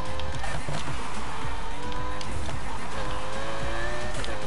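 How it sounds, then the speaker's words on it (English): A car drifts in Need for Speed Heat with a steady, loud tire squeal over a roaring engine, the squeal wavering in pitch throughout. "I got it to drift, AP."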